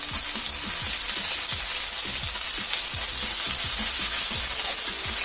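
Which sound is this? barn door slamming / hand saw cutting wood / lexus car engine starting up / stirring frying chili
stirring frying chili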